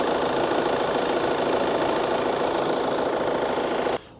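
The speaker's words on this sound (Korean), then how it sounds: "고른 디젤 엔진 소리라고 보면 될 것 같습니다" A 2016 Volvo S60 D4 diesel car engine idles steadily with an even, rattly knock, loud and close, then cuts off abruptly near the end.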